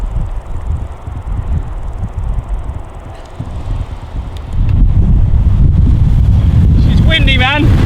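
Strong side wind buffets the microphone outdoors during wheelie riding practice, a loud, rumbling low roar that grows heavier after the midpoint, with a faint voice and brief high whistling near the end.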